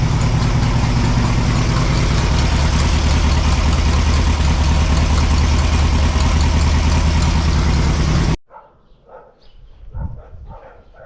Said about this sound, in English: yeah, I like that exhaust.